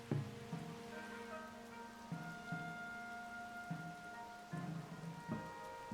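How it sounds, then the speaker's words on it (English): Steady rain hisses across the whole scene in Zelda: Tears of the Kingdom, a constant soft wash with game music tones layered over it and no talking. "Oh, it's raining though."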